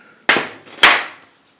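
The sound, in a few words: hammer striking a tool in a blacksmith tool holder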